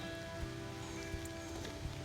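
Steady rain falls over a farm garden after about three inches of heavy rainfall, a dense, even patter on surfaces with occasional louder drops, no voices.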